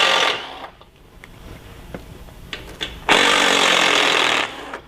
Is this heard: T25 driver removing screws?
yes